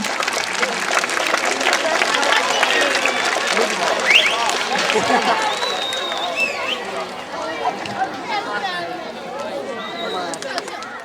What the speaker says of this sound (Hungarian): Nagy tapsot kérek Tóth Lászlónak és Ludasnak